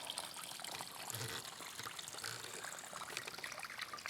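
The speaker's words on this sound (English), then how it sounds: "you probably already heard the water, and there is a pond here." Water trickles steadily into a small pond on a mini golf course, a continuous soft babbling stream sound that stays fairly even throughout with no voices.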